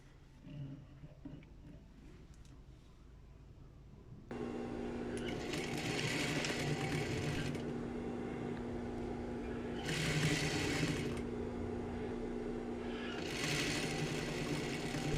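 A sewing machine stitching a seam on a pair of shorts: after a quieter start it runs in a steady, close, continuous hum, with a louder mechanical whir rising in three separate bursts and no talking.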